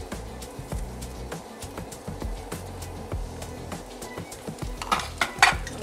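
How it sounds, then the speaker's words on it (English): Cranberries and sugar stirred in a pot for cranberry sauce, a spoon clinking and scraping in irregular taps and scrapes, close and fairly quiet. "We're going to give it a good mix"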